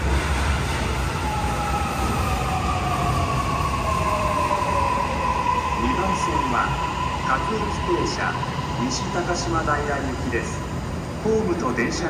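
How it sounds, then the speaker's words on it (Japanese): Toei Mita Line 6500 series eight-car train pulling into a station platform, a steady rumble with rising motor whine and rail clatter, heard up close under platform announcements. "2番線に各駅停車西高島台大行きが8両編成で到着します。"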